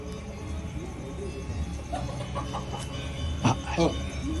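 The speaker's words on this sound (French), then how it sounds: "Toujours une poule dans le coin." A chicken clucks a few times in the background near a temple in Bali, brief soft calls over steady ambient noise.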